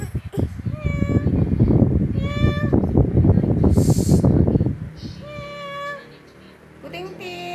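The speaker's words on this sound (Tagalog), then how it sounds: "may ampun kaming pusa" A cat meows repeatedly in short, rising cries, close by, over a low rumbling background of voices and noise.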